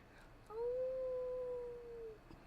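A person imitating a dog or wolf howl, a single long sustained wavering howl from close by, rising then slowly fading.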